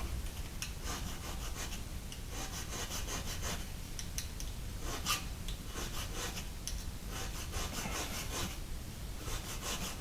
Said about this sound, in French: on va continuer à passer légèrement avec la lime